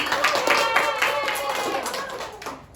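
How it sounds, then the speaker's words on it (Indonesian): A classroom of students claps for a classmate, a brief burst of overlapping hand claps that fades out within a few seconds, with voices mixed in. "tepuk tangan untuk Sisi"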